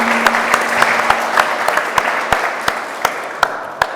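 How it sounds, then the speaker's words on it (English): An audience applauds after a question at a talk at Gnomon: a steady wash of clapping for about four seconds, punctuated by a few sharper, louder individual claps near the front. "Let's have a round of applause, actually."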